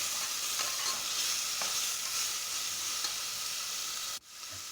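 Steady, continuous sizzling of chopped tomato frying in a hot pan for chicken gravy, close by, cutting off abruptly near the end.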